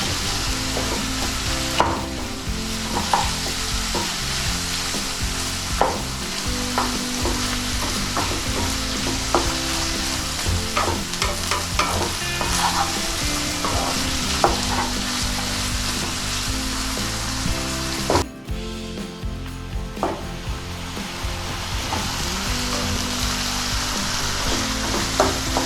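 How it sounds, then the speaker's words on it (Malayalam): Chopped tomato, chili and garlic fry in a pan with a continuous loud sizzle, while a spoon scrapes and stirs in steady repeated strokes, close up with no talking. "അതിനുശേഷം നമ്മൾ അരിഞ്ഞ് വെച്ചേക്കണ തക്കാളി, മുളക്, വെളുത്തുള്ളി അതെല്ലാം കൂടി ഒന്ന് മിക്സ് ചെയ്തിട്ട് ശരിക്കും ഇളക്കി കൊടുത്തേക്കാം"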